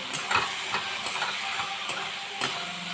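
Chicken fries in a pan with chili powder, turmeric, salt and tomato. A close, crackling sizzle carries soft stirring scrapes and small spits throughout.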